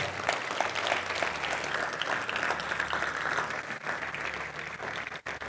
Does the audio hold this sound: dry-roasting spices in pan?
no